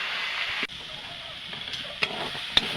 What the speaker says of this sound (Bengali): আমি এটা নাড়াচাড়া করে ভেজে নেব